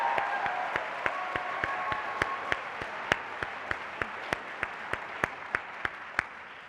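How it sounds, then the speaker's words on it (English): An audience at the 2023 Key Club Convention opening session gives itself a round of applause, a broad wash of clapping with a sharp, regular clap beat standing out over it throughout. "please give yourself a round of applause for being here"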